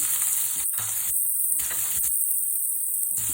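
Green chili and onion sizzle in a hot pan for a vegetable dish of raw papaya, a steady bright hiss interrupted by short pauses as the frying is stirred.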